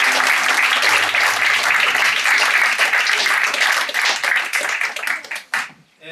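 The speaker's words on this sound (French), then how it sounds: "on peut applaudir très très fort" Loud applause from a comedy improv club audience at the Avignon festival, dense clapping that thins out and tapers into scattered claps near the end.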